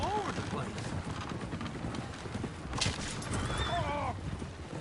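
Horses' hooves clip-clop busily in Red Dead Redemption 2, with a horse whinnying partway through and voices talking over the steady hoofbeats.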